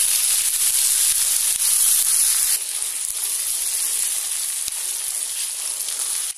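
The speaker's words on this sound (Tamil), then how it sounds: "வெங்காயத்தை சேர்த்து பாதி வதக்கிட்டுருக்கும் போது நம்ம இதோட தக்காளி சேர்த்துக்கலாம்." Chopped tomatoes sautéing with half-fried onions in a pan for a tamarind-based sundakkai vatha kuzhambu, giving a loud, steady sizzle and hiss that runs unbroken throughout and eases slightly partway through.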